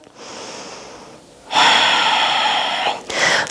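Deep, loud breaths during a power flow yoga session: a long steady inhale followed by a forceful, breathy exhale, then another breath beginning, close to the microphone with no talking.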